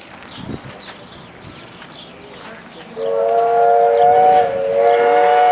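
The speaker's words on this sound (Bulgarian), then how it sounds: "Влакчето тръгва." A small train starts up with a steady, droning whistle-like engine tone, over outdoor background noise with faint birdsong.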